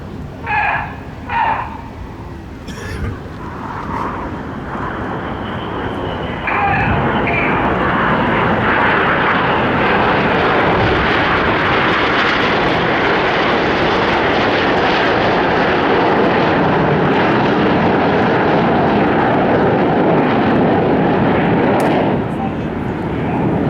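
Red Arrows display jets fly aerobatic rollbacks at a seaside airshow in Bournemouth, a loud, sustained roar that builds after a few seconds and holds steady before easing, with a commentator talking over it and crowd sounds at the start.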